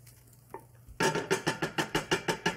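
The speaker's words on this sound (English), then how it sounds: "we're going to cook that tomato paste for a minute or so to get some caramelization" Garlic and tomato paste cook in a pot while a utensil scrapes and stirs in a quick, regular rhythm of about a dozen close, sharp strokes. A faint sizzle sits underneath.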